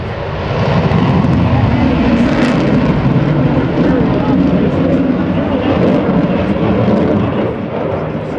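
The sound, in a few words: F/A-18F Super Hornet jets flying a carrier break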